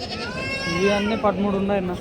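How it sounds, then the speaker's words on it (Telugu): Goats bleat at the Tuesday sheep and goat market in Kadiri, with a drawn-out, wavering cry close by and people talking over and around it. "అన్ని మేకలేనా"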